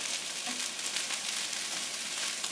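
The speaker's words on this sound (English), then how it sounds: "I'm going to put some white sugar on top of it, and that's going to brown it even more" Shrimp fried rice sizzles steadily in a hot pan as white sugar is stirred in, a constant loud hiss close by with no voices.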